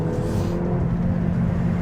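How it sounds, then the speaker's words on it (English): A Peugeot RCZ R's engine and exhaust hum with a steady low, throaty drone under load while driving, loud and close with no speech over it. "The exhaust sounds a bit fruitier."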